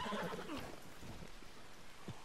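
A horse whinnies in Red Dead Redemption 2, a loud descending neigh at the start followed by soft hoof clops and rustling, with no talking.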